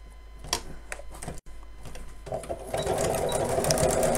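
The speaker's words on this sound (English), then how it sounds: "I'm going to sew all the way around, but leave a gap in the base so I can turn it the right side out" A sewing machine stitches steadily around the edge of a child's fabric apron, its rapid mechanical whir running continuously and growing louder and denser toward the end, with no talking.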